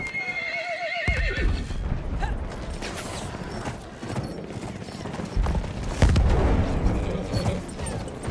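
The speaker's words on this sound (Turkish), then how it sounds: "Ben ne yapacağım bu atlarla?" Horses in the Battlefield 1 game give a rising-and-falling whinny, then hooves clop and stamp amid creaks and battle noise, with a louder burst of activity late on.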